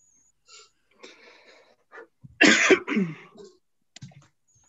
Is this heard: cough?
yes